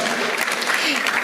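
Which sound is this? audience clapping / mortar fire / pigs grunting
audience clapping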